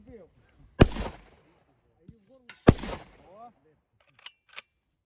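Two sharp gunshot-like bangs about two seconds apart, each followed by a short burst of voices, then a couple of smaller cracks near the end.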